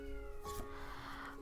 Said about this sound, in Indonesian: kayaknya ada suara kucing gitu ya di luar